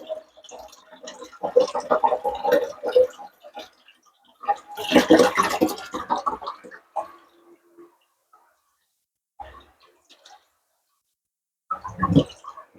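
Homemade organic juice strained and poured back into a container, intermittent bursts of liquid splashing and trickling, close and moderately loud, with pauses of near silence between pours.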